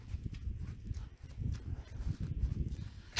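Sheep hooves shuffle and patter in an irregular, close rhythm as the flock walks in toward grain before vaccination, with soft low thuds and scuffs and no talking.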